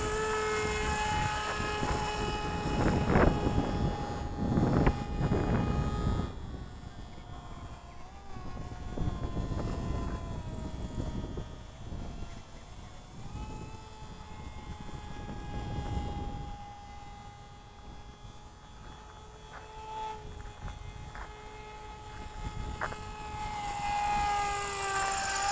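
An RC gyrocopter, the MIA Autogyro EZ, flies outdoors on a windy day, its motor and rotor giving a steady buzzing drone with pitch rising and falling as the throttle changes, moderately near, with wind noise and no talk.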